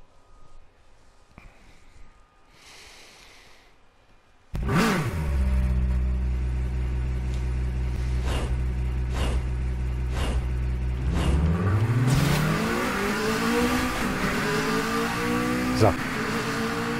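A car engine in the Super Street racing game revs hard after a quiet start, roaring loud and steady with sharp shift cuts before the pitch sweeps back up.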